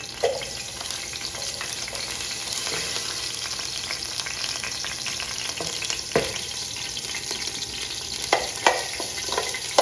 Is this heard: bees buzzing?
no